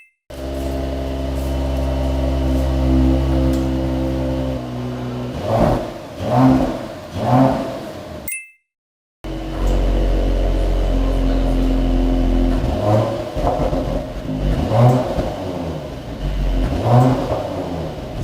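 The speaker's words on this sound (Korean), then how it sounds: "AMG라고 하면은 막 웅장하고 막 우렁차고 이런 배기음들을 상상하실 텐데 그런 배기음이 아니거든요. 한번 들어보시고 판단해 주시는 게 좋을 것 같습니다." A Mercedes-AMG GLE 53 SUV revs its engine repeatedly, the exhaust rising and falling in several sharp, close bursts over a steady idle, with a brief cut partway through.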